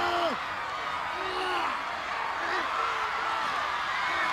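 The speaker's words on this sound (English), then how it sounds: "The crowd chanting." A wrestling arena crowd keeps up a steady, dense roar of chanting and cheering that fills the whole moment, with a commentator's voice drifting over it at times.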